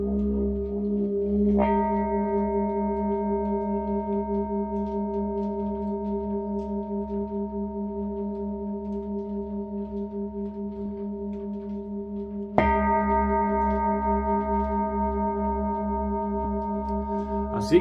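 Three large singing bowls ring together in a long sustained chord with rich harmonics and slow beating, then are struck again near the end for a fresh swell, loud and close with no talk.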